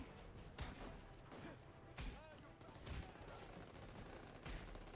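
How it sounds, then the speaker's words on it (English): Rapid bursts of gunfire crackle through The Amazing Spider-Man 2 video game, with sharp volleys recurring every second or so over a busy mix of game sounds and faint voices. "Were they shooting at each other?"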